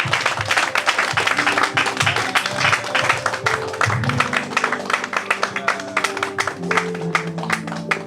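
A church congregation applauds after a sermon by Pastor Amadou N'Diagne, dense rapid clapping filling the room continuously, with scattered voices and tonal notes underneath.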